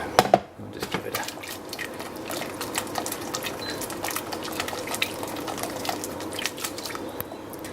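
Beef brisket or pastrami with dry rub, tossed in a pan with beef stock, giving a constant wet sizzle and splashy crackle after a sharp clatter at the start, close and fairly loud.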